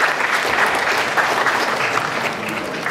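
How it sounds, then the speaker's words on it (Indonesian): An audience applauds winners of a mathematics photo contest at the opening of a national mathematics conference, dense, loud, continuous clapping from a large crowd that holds steady and eases slightly toward the end. "Kita boleh berikan aplaus kepada pemenang"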